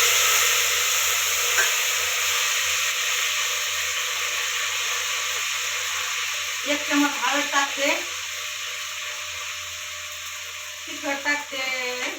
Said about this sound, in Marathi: तेल गरम झालंय आता लसूण ते टाकून घेते लसणाची फोडणी देणार आहे